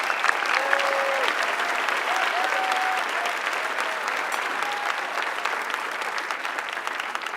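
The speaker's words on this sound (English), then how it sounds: "Please, round of applause for Synergy." Audience applause at a startup competition finals ceremony, steady broadband clapping from a large crowd sustained throughout, with a few faint whistles or cheers rising over it.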